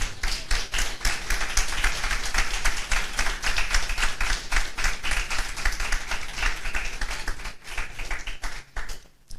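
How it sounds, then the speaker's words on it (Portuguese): A church congregation clapping in worship, loud dense applause with sharp, fast individual claps sustained for most of the stretch before thinning and fading toward the end. "E pode aplaudir o Senhor."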